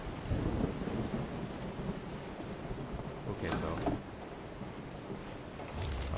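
Steady rain with rolling thunder outdoors in the video game Resident Evil 7, a dense wash of rainfall under a low rumble, with a person speaking briefly over it.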